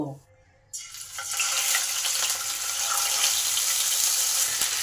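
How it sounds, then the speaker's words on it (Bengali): Fish slid one at a time into hot mustard oil in a pan on a gas flame set to low-medium burst into a loud, steady sizzle that holds for several seconds after a brief quiet start. "মাছগুলোকে এক এক করে ভেজে নেব"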